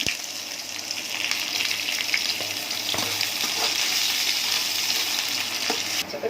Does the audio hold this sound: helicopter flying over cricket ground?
no